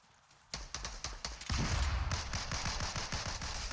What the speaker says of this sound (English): those bullets you guys shoot behind me